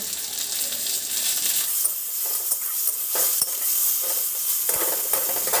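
Onions frying in a pan make a continuous close sizzle and crackle, broken by scraping stirs and a few sharp metallic taps of the spatula on the pan.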